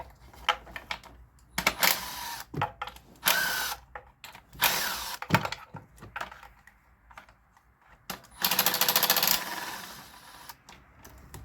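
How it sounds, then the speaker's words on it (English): A ratchet clicks in quick, irregular bursts while valve cover bolts are loosened on a Kia/Hyundai 2.0L or 2.4L engine, with short pauses and clatter between runs and a longer rapid ratcheting spell near the end. "Now we just have to simply pull off the valve cover bolts"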